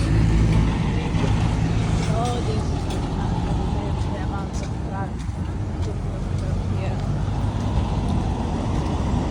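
Road traffic in Cambodia with buses passing, a loud steady engine rumble and wash of vehicles close by, with a voice talking over it.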